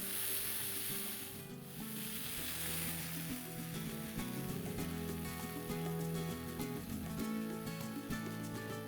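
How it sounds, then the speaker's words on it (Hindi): Parmesan cheese sizzling in a pan as it melts into wafers, a steady close crackle and hiss that fills the whole stretch without pause. "इसी तरह से हम एक बार फिर से इस पैन में डालेंगे थोड़ी सी पार्मेसन चीज़ और फिर से बनाएंगे ये वेफर।"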